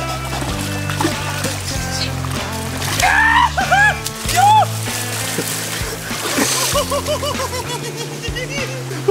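Water splashes and sloshes as someone enters icy river water at about minus 10 degrees, with loud music playing and voices briefly calling out.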